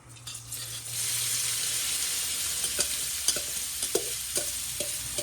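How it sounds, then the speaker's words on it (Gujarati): Sliced onions dropped into hot oil already tempered with cumin and asafoetida, the sizzle rising into a continuous loud hiss, with sharp clicks of a spoon stirring against the pan. "હવે આપણે એના પછી કાંદા એડ કરશું."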